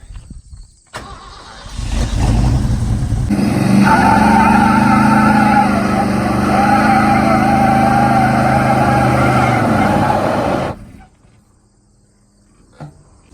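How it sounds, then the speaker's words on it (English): A 1979 Ford F250 on wide drag slicks does a burnout on pavement, with a loud, sustained engine roar and a tire-spinning hiss. The roar holds for about eight seconds, then cuts off abruptly. "I literally can't control my burnout the slightest bit because the drag slicks for all this traction are just sliding on the pavement"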